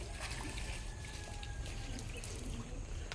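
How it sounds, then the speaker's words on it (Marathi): Hot spring water in Konkan flowing steadily in a continuous soft trickle, close by and alone at low level, with no talk over it. "हे बघा हे गरम पाणी झरे हा एक आहे"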